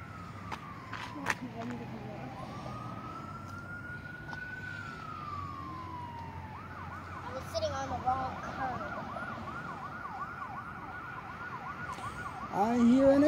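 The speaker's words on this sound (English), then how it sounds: "I hear an ambulance." An ambulance siren wails in the distance, first a slow rising and falling tone, then a faster repeating warble that grows louder near the end, with people talking faintly nearby.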